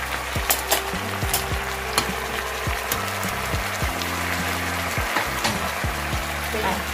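Wild garlic flowers and fresh shrimp stir-fried in a pan, a steady close sizzle broken by repeated scraping and clacking strokes of a spatula against the pan.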